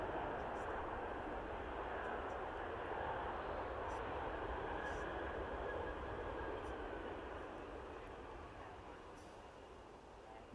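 An Ethiopian Airlines airliner at Manchester Airport produces a steady, broad jet engine roar that holds for several seconds and slowly fades, distant and continuous without voices.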